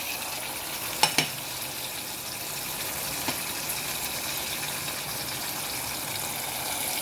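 Finely chopped ginger and garlic sizzle in hot oil with broad beans in a home kitchen, a steady hissing fry filling the background, with a couple of sharp clinks early on and no talk.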